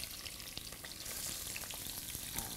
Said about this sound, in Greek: Βάλε τα κρεμμύδια μέσα στην κατσαρόλα